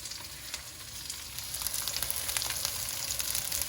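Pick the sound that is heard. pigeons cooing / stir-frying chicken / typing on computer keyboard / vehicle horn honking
stir-frying chicken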